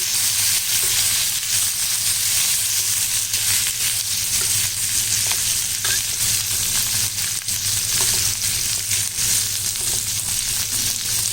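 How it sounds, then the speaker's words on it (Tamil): Sliced brinjal sizzles and fries steadily in hot oil in a home kitchen, with a constant close crackle and occasional scraping as it is stirred, no voices. "இந்த எண்ணெயிலே இந்த கத்திரிக்காய் வந்து நல்லா வதங்கணும்"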